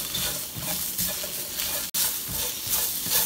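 Vegetables with beef and glass noodles frying in a pan, a steady broadband sizzle and hiss with stirring pulses, close and fairly loud, broken by a brief dropout midway.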